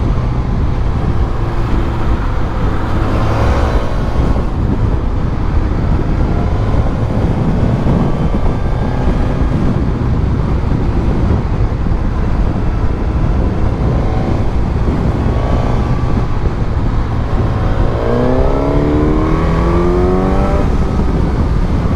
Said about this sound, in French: on va tester un peu la sportivité de cette moto